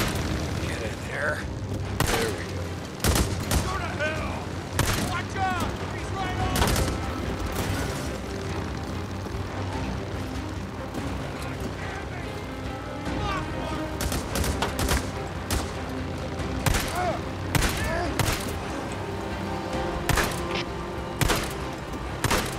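Gunfire in the game Days Gone, with repeated loud shots and bursts rattling through a firefight, some sharp single cracks and some rapid volleys, with other game sounds underneath and a voice talking at times.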